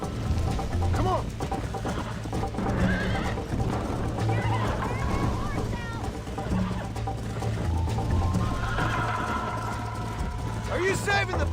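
A horse galloping in Red Dead Redemption, steady hoofbeats and whinnies running throughout beneath continuous game dialogue, with a louder neigh near the close.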